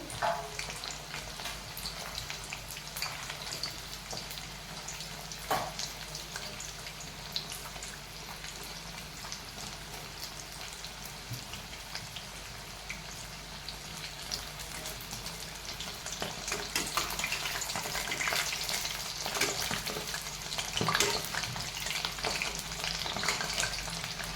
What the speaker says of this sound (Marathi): पनीर आपण चांगला क्रिस्पी फ्राय करून घेऊ